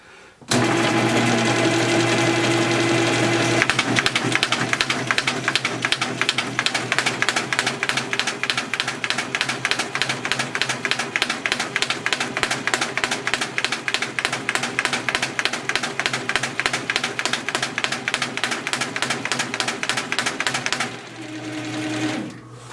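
A BaumFolder 714 friction paper folder runs 100 pound glossy coated text paper, giving a fast, even mechanical clatter like a sewing machine for about seventeen seconds before it winds down.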